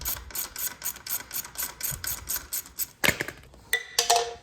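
A wrench works an 8mm nut on a Triumph Daytona motorcycle, giving a steady run of short rhythmic ratcheting rasps, followed by a few sharper metallic clicks and knocks close by.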